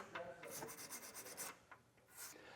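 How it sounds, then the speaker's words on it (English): A wire brush rasps against weld nuts on the frame of a 2016 Chevrolet Traverse during a trailer hitch installation, giving several quick, quiet scrubbing strokes close by. "I'm going to go ahead and wire brush these weld nuts here"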